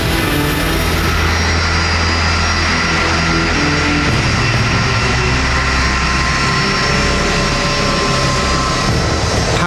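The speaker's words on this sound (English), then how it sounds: "Powered by its 3 engines, the plane hurtles down the runway" A three-engine DC-10 jet airliner thunders down the runway at takeoff thrust, a loud, unbroken roar that fills the whole stretch with no voices.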